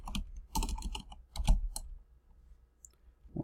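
Rapid bursts of computer keyboard typing as simple Python print-function code is entered in an editor, clustered clicks with short pauses between them, fairly close and alone without talk.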